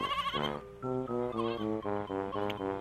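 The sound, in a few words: goat bleating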